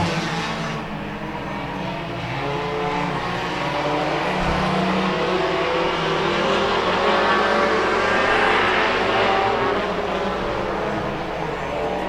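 Race cars roar steadily through a 15-lap Hornets feature race, a continuous loud blend of engines from several cars circling the track, with no break across the whole stretch.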